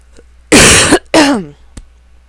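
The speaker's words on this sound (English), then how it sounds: "I need to cough and clear my throat." Two loud, close coughs in quick succession, the second trailing into a rough throat clearing, followed by a brief click.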